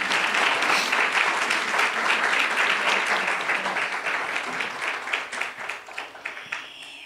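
A forum audience on gender-based political violence applauds a Mexico City electoral tribunal magistrate. Dense clapping holds strong for several seconds and then thins out toward the end.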